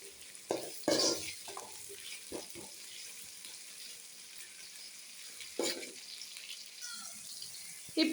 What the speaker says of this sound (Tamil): நல்லா வெங்காயம் வணங்கட்டும்.